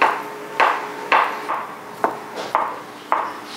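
A kitchen knife chops through dried pressed tofu on a cutting board, about seven crisp, evenly spaced strikes, close and clear with no talking.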